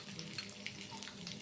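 Whole cumin seeds and dried chillies dropped into hot oil, a soft continuous sizzle and crackle, close but quiet, lasting only a moment.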